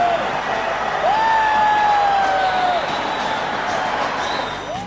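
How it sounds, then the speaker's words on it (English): Indian cricket supporters at a 2003 World Cup match at Centurion against New Zealand, a steady crowd roar and cheering with whistles and horn-like tones rising above it, continuous and loud throughout. "And the Indian supporters have plenty to cheer about."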